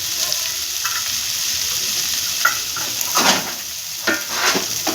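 Raisins and cashews frying in a pan on a gas stove make a close, constant sizzle, broken by a few louder crackling bursts and stirring scrapes.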